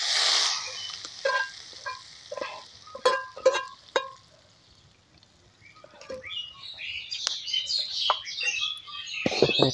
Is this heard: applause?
no